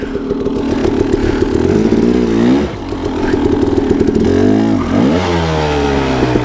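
KTM 300 two-stroke dirt bike with a 38mm billet smart carb, lugging up a sloppy, rocky hill climb on grip studs: a loud, close, pulsing engine drone that surges and dips in pitch several times as throttle changes, with clattering underneath.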